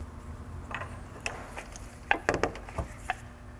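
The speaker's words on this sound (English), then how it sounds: "I'm going to run in the screw" A screw is driven into a Honda ignition distributor, giving faint irregular mechanical clicks and ratcheting ticks, close and quiet, with a few sharper taps near the end and no talking.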